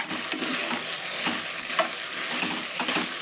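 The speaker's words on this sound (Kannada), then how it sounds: "ಇದು ಎಣ್ಣೆ ಒಳಗೆ ಫ್ರೈ ಆಗಲಿ" Shredded cabbage frying in hot oil for a cabbage pulao, a steady close sizzle with occasional stirring scrapes and clicks, no voices.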